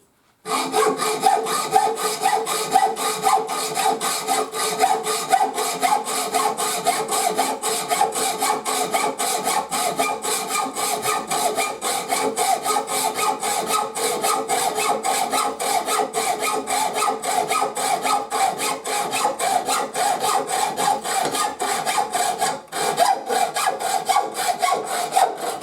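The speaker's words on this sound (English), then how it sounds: "got my hacksaw, and I'm just going to cut it in half" A hacksaw cutting a piece in half with steady, rapid back-and-forth strokes, a close, continuous rasping rhythm that holds for the whole stretch with only one brief hitch.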